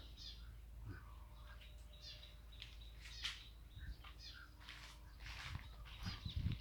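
Faint bird calls and chirps on a farm in Thailand, scattered over a steady outdoor background hum, distant and intermittent, with no one talking.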